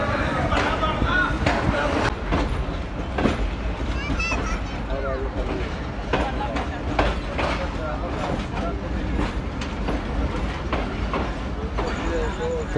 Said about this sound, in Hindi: हमारी 18 डाउन मिलत एक्सप्रेस ने फैसलाबाद रेलवे स्टेशन को छोड़ दिया